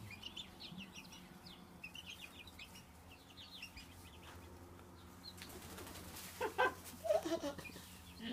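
Chickens cluck and murmur softly at a distance over a steady low hum, with a few louder, closer calls near the end.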